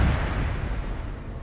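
Deep, rumbling detonations of torpedoes hitting Japanese ships during a WWII submarine night attack, a continuous heavy low boom that fills the clip and slowly fades.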